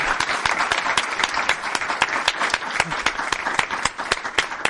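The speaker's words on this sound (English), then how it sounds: "I'd like to give everybody one more last round of applause for the great work they've done." Audience applause at a school board meeting, a mid-sized crowd clapping with distinct individual claps standing out in an uneven rhythm for several seconds.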